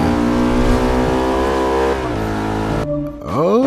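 A car engine in the racing game Forza 5 revs loud and steady with a deep, growling tone, then drops off and climbs back in a rising rev near the end, with no talk over it.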